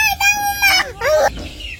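A chicken on a village poultry farm crows and clucks loudly and close, in several drawn-out bursts with short gaps between them.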